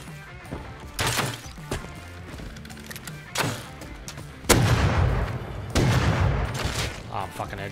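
Gunshots in the survival game Rust ring out as several loud, separate cracks and bursts spread over a few seconds, each followed by a short tail over a low background rumble.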